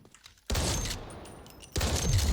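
An MK47 rifle in a rapid-fire build in Delta Force lets off two close, loud bursts of quick shots, the first rolling on for over a second before a brief lull and the second burst.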